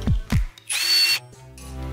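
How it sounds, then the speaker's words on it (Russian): A power drill bores a mounting hole in a wall for a homemade shelf bracket, with a short loud whining burst lasting about half a second after a couple of sharp knocks. Nobody speaks. "Теперь я сделаю отверстие для крепления к стене."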